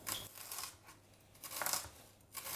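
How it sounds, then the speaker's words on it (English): A knife cuts onions into thin slices in a home kitchen, making faint, soft crisp bursts in a few short strokes with brief quiet gaps. "So I'm going to cut them in thin slices."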